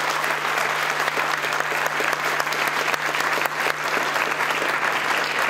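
An audience at a talk with venture capitalist Ray Lane on green technology applauds steadily to welcome a speaker, a full room clapping without pause.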